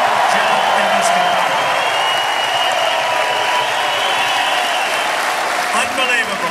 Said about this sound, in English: we should give a special round of applause to our police